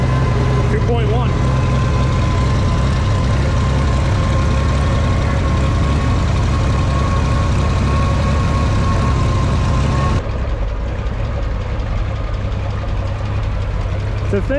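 A Farmall 460 tractor, restored after being torn apart in the shop, runs steadily while being tested with tillage, its low, heavy engine drone continuous and close throughout, dropping slightly in tone near the end.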